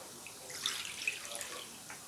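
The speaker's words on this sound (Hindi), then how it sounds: "इसमें हाफ गिलास हम इसमें डाल देंगे पानी।" Water, about half a glass, poured into a chicken karahi pan over a paste of almonds and green chillies, giving a soft, steady splashing trickle for about two seconds with faint drips, heard alone.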